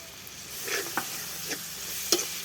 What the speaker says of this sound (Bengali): মশলা কিছুক্ষণ ভাজবো আমি মশলাটা